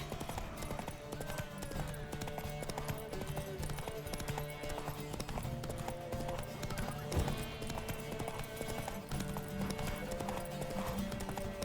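Rapid clip-clop of horse hooves galloping steadily throughout a horse race in The Witcher 3: Wild Hunt, with a brief whinny and faint background game sounds.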